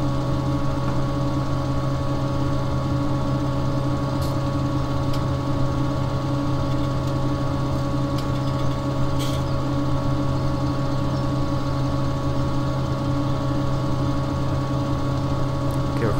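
A tractor engine in Farming Simulator 17 drones steadily at idle while the machine keeps rolling, a constant even hum with fixed low tones that goes on unbroken with no talking.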